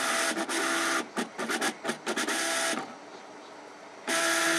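A Cricut Imagine machine cuts paper with loud bursts of mechanical whirring and carriage movement, stopping and starting in choppy segments, then pausing to a quieter hum before resuming at full volume.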